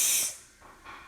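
A voice imitates a female dinosaur with a sharp, close breathy hiss lasting a fraction of a second, followed by a softer, shorter hiss.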